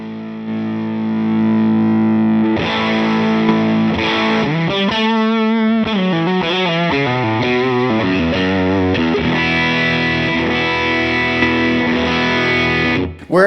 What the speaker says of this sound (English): Where it was just adding tons of compression to the sound.